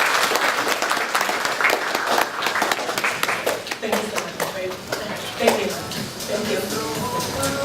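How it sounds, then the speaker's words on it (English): An audience at a leadership forum panel applauds the panelists, a dense sustained wash of clapping that holds steady throughout, with a few louder claps standing out near the end. "Please give our panelists a big, big round of applause."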